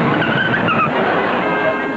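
A radio comedy car sound effect plays: a steady engine rush with short squealing tire screeches near the start, heard alone without talk.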